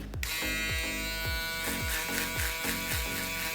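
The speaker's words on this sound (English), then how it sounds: "This is the shaver I choose, but you can use any shaver you want." An electric shaver buzzes close by with a steady hum, repeatedly dipping and rising in a regular rhythm as it moves.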